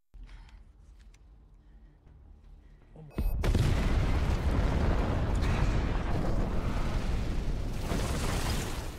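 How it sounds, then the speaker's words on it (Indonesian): A big explosion in a movie scene bursts in abruptly after a quiet, low rumbling lead-in, then roars on as a loud, sustained blast with heavy low-end rumble and debris noise. "ledakan besar pun terjadi dari tempatnya si Modi"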